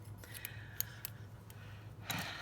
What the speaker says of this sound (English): I like to put my scissors away